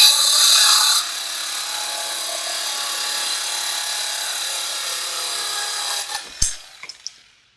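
Worx power saw cutting through a workpiece, a loud steady high-pitched whine that drops slightly after the first second, runs evenly for several seconds, then winds down with a few sharp clacks as the blade stops.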